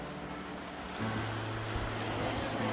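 Water near a cottage in Goa washes in a constant broadband rush, with a low engine-like hum joining partway through, all under wind noise.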